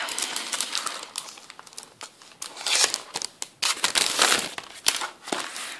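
Glossy metallic craft sheets in purple, silver, pink and blue, made for use with a die-cutting machine, crinkle and rustle as they are pulled from their plastic package, in close, uneven bursts of crackling.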